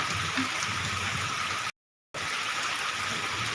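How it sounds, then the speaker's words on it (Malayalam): Dense, steady rush of heavy rain with a windy hiss, broken by a brief moment of total silence midway. "ഭയങ്കര മഴയും കാറ്റുമാണ്"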